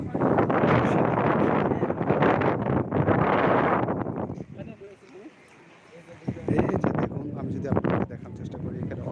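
A southerly sea wind on Akilpur beach by the Sandwip channel, where trees give shade, buffets the microphone with loud gusty roaring that drops briefly midway, while people talk.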